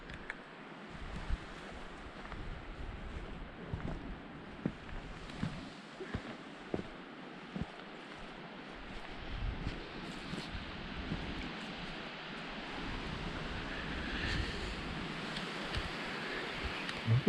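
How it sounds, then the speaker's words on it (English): Frequent cold wind gusts buffeting a mountain shelter with a tarp on a wilderness trail, a steady roaring rush that swells and eases, with intermittent flaps and knocks. "It's windy."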